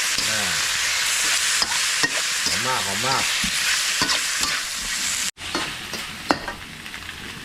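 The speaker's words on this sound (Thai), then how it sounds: "วันนี้ก็จะใส่น้ำปลานะครับ ใส่ที่ขอบกระทะ" Fish sauce poured at the edge of a hot wok sizzles loudly, with steady frying hiss, stirring clatter, and a voice speaking briefly over it.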